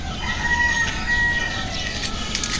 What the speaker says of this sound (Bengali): এই যে দেখেন পাখি ডাকা শব্দ